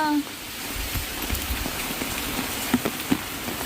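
Heavy rain pours in a constant roar, with occasional louder drops smacking a close surface; a brief tonal sound at the start.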